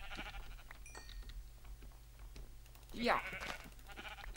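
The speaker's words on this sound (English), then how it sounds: "we go get that sheep down to our right" A sheep in Minecraft gives one short, clear bleat midway through, loud over a quiet background of keyboard clicks, with a single brief spoken word nearby.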